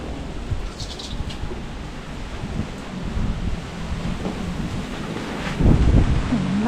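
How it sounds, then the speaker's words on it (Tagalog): Strong wind buffets the microphone while a rider travels on a Honda ADV160 along a muddy road, a steady rough rumble that swells and gusts louder toward the end, with no talking. "Grabe yung hangin."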